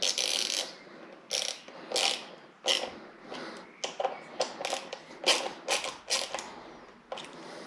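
A ratchet tightens the mount of an SP Connect phone holder on a 2020 KTM Super Duke R motorcycle, with a long run of quick rhythmic clicking bursts, close and clear, with no voices.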